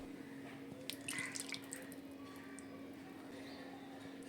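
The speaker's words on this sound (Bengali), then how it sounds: "এবার মশলার বাটিটা ধুয়ে একটু জল দিয়ে দিলাম" A spice bowl rinsed with a little water in a kitchen while cooking katla bhapa: soft trickles and drips with a faint splash, quiet and close over a steady low hum.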